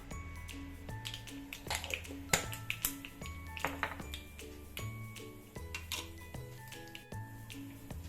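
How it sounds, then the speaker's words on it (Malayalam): Mustard seeds crackle in hot coconut oil for an eggplant curry, with scattered sharp pops and ticks at an irregular rhythm over quiet background music. "കടുക് പൊട്ടി വരുമ്പോൾ"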